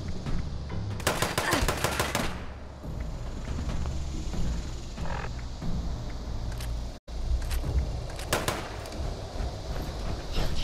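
Blasts from a combat shotgun in the Fallout 76 video game ring out in two loud rapid clusters, separated by quieter stretches of ambient game noise.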